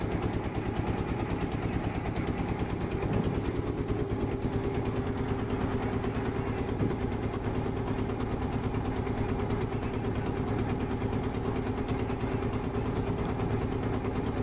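A trawler boat's engine chugging along the Buriganga river, a steady low droning throb that holds constant and close the whole time, with no voices over it.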